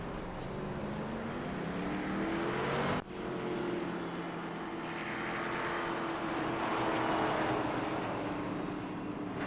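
A race car engine at Rockingham roars steadily, loud and sustained, with a rising pitch sweep that cuts off sharply at about three seconds before the engine tone settles into a steady drone; no speech.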